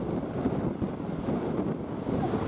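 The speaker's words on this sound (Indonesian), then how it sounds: "Sekarang ini ombak tingginya sampai berapa meter ini? Angin kencang ini." Strong wind roars across the microphone with the wash of high waves at sea along a Papua coast where fishing boats lie damaged, a dense, continuous rumble with no voices.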